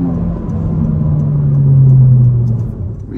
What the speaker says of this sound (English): Try out some passing power, about half throttle.